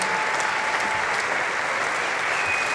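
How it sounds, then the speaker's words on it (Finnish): An audience at an MMA event bursts into loud, sustained applause, a dense steady clapping that fills the whole moment with no break. "Annetaan isot aplodit."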